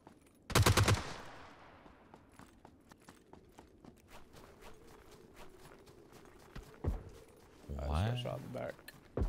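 Gunfire in the video game PUBG on a snow map: a loud burst of shots up front, then footsteps and scattered clicks, with another burst near the end and people talking throughout.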